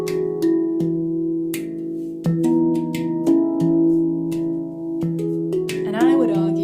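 A handpan plays the Joy pattern, ringing tuned tones struck in a flowing rhythm with sustained overlapping notes and a few sharper accented hits, close and clear with no talking.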